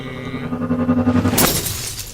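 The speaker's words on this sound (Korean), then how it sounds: "아이고 깨졌네." An object breaks in the video game Silence, a sharp shatter like glass cracking apart after a brief tonal hum, loud and close, then quickly fading.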